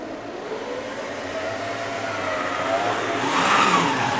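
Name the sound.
model locomotive wheels spinning while struggling to pull carriages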